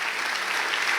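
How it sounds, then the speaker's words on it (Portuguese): A church congregation applauds with dense, even clapping throughout, a continuous wash of many hands sustained at a steady level. "Aplauda o Senhor."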